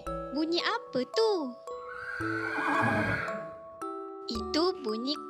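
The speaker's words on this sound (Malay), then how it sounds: "Itu bunyi kuda." A horse neighs in a long, wavering whinny, loud and close, framed by bright chiming musical notes from a children's sound toy or book.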